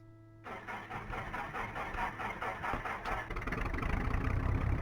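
A piston engine of a twin-engine BN-2 Islander aircraft in a flight simulator video game catches after a starter click, then turns over with a rhythmic chugging that settles into a rough, steady idle.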